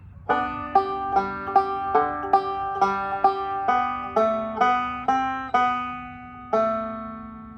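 A plucked banjo picks out a melody from I'll Fly Away, about a dozen bright twangy notes in a steady rhythm, ending on one longer ringing note.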